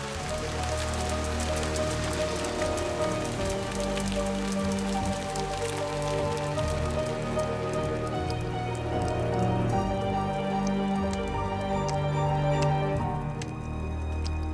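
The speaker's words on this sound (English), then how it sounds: "Acid rain poured from the sky" Downpour pattering hard on surfaces, with distinct drips and splashes scattered through a close, steady roar of falling water that continues without pause.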